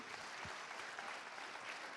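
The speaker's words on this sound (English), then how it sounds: "big applause to you all" Audience applause at a global engagement plenary session, a faint, distant wash of many hands clapping, steady and even across two seconds.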